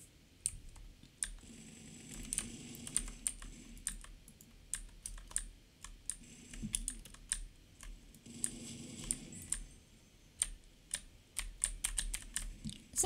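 Clicky computer keyboard keys clatter while playing Roblox Arsenal, sharp close clicks coming in uneven bursts and flurries, with some quieter low thumps between them and no talking.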